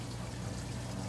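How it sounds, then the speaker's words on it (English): Water pours steadily down into an aquarium sump, a continuous close rushing and splashing wash with no breaks. "the way the water comes down"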